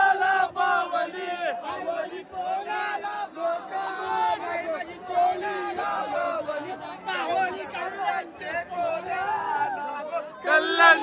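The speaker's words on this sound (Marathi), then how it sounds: "कोणी गाणी बोलतं, कोणी घोषणा देतं." Devotees at the Ekvira Aai palkhi festival chant and shout in rhythmic bursts, a loud close mass of voices rising and falling in repeated call-like phrases with brief dips between.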